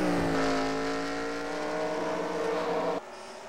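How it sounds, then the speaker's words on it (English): The Kellogg's stock car in a racing video game, running a road course at St. Petersburg, gives a steady, close engine drone with layered harmonic whine that eases slightly in pitch before cutting off abruptly. "that Kellogg's car rolling away."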